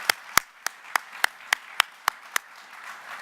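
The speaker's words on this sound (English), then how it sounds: "So how about a round of applause for our AIAA staff?" A conference audience claps in a sparse, slow run of about nine distinct claps spaced evenly through the room, fairly quiet, with no voices over it.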